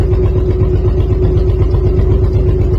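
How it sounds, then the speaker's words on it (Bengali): A trawler boat engine cruising into the Sundarbans mangrove forest drones loud and close in a steady, unbroken low rumble with a constant hum, and no voices are heard. "তার দক্ষ হাতে এই ট্রলার চালিয়ে সুন্দরবনের অভ্যন্তরে নিয়ে যাচ্ছে"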